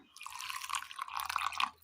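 A small splash of water is poured into a mixer grinder jar holding turmeric powder, coriander powder and grated coconut, making a brief, close, soft trickle and drip.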